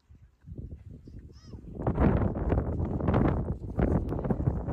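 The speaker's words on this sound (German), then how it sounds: "es ist so windig, man versteht nichts, was ich sage" Strong wind buffets the microphone beside a mountain lake on a mountain bike tour, rumbling gusts swelling after a quieter start and staying loud and roaring to the end.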